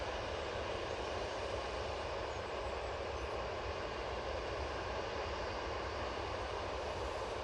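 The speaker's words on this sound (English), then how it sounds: "Easyjet off to Malta using this A320neo." EasyJet Airbus A320neo jet at Manchester Airport giving a steady, loud, broadband engine roar that holds evenly throughout with no talk.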